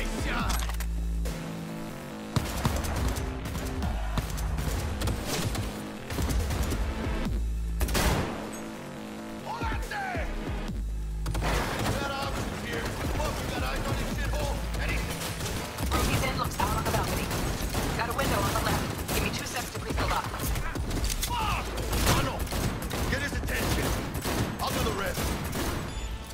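Dense rapid gunfire fills a Cyberpunk 2077 firefight almost without pause, with bursts, clanks and impacts layered loudly throughout, and voices speaking now and then beneath it.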